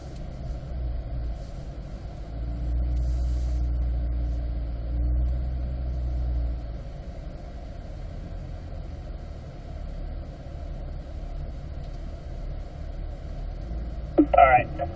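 A race car's engine rumbles low as the car rolls forward slowly, swelling briefly then settling back to an idle-like drone, with a person talking over it.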